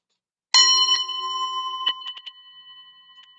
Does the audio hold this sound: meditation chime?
yes